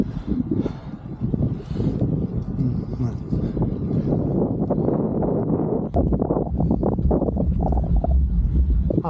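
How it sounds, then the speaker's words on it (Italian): Strong wind buffets the microphone on a cold mountain bike ride up to San Vito and Castra near Bacchereto, a loud, continuous low roar with gusty swells throughout. "venticello si sente"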